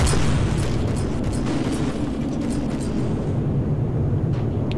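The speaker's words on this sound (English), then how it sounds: "And the other side guns should fire as well." Ship guns firing in the naval combat game From The Depths, a steady stream of deep rumbling booms and blasts with a few sharper bursts, loud and continuous throughout.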